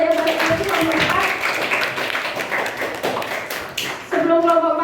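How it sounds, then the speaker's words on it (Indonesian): Classroom applause for a student group after a crafts lesson presentation, a dense patter of many hands clapping over a few seconds, with children's voices mixed in and a brief dip before the clapping swells again. "Oke, beri tepuk tangan untuk yang tadi kelompok 4."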